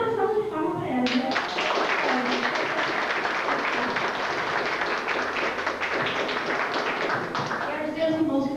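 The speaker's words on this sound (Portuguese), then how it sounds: "Pode até dar uma salva de palmas para elas, né?" Round of applause from a small group at a teachers' meeting, steady dense clapping sustained for about seven seconds, fairly near, with a voice briefly audible at the start and end.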